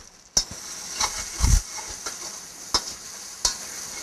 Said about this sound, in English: And this is the stage when you actually know that the spice has been cooked fully. But constant stirring is a must.